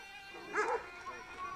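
Street dogs outdoors bark and growl in one brief burst near the middle, fairly close, over a low background murmur, with faint further yips toward the end.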